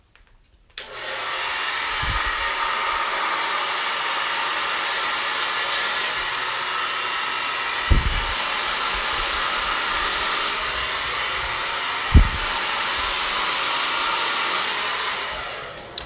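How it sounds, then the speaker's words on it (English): A powerful blow dryer drying natural hair runs as one loud, steady whoosh for about fifteen seconds, with a few brief bumps and rustles as it is moved and no one speaking. "I'm using a really good blow dryer."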